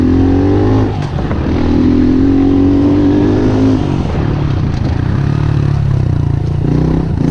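Honda CRF110F pit bike fitted with fat bars and triple clamps, its engine droning steadily and loud while riding, the pitch shifting as the throttle changes, with no talk.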